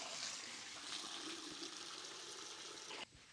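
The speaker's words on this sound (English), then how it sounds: "Now I'm going to fill up my bucket" Water pours steadily into a bucket already foamed with soap for a pressure-washing job, a continuous broadband rush lasting about three seconds before dropping off abruptly near the end.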